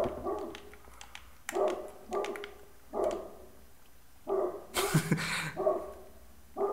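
In a Minecraft survival game, a dog barks repeatedly in short, evenly spaced yips and barks at moderate loudness, with a sharper burst near the end and no talk over it.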